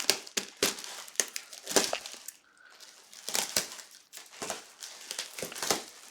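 Tape being torn and packaging crinkled while opening the shipping box of a Moog Taurus MkIII synthesizer, a run of sharp, close crackling rips and crumples with a brief lull midway, no talk.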